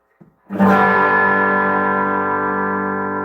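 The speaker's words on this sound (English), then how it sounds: "Hear how it's a little harder, a little harsher, a little more distortion." An electric guitar with a compression pedal engaged: a faint pluck, then one loud chord that rings out with long, even sustain and a slightly harsh, driven edge.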